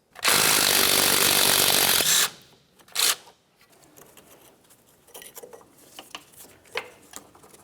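An impact wrench bursts loudly for about two seconds, spinning out a 14mm mounting bolt that holds the brake flex hose and ABS wire bracket on the front strut of a 2009-2010 Pontiac Vibe, followed by faint clinks and handling noises.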